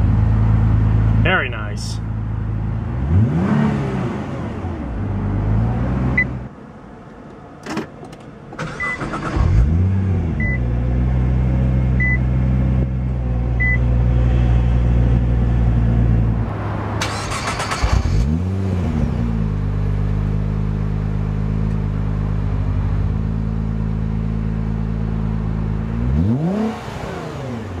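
A 2010 Nissan GT-R starts up close by and settles into a loud, steady idle, with several sharp revs rising and falling over the running engine while someone speaks briefly.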